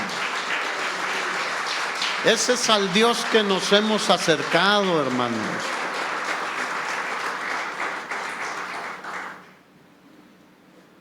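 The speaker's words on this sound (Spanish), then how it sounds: "Dale un aplauso al Señor, hermano" A church congregation applauds during a sermon, sustained clapping from a crowd that continues while a preacher speaks loudly over it, then fades out near the end.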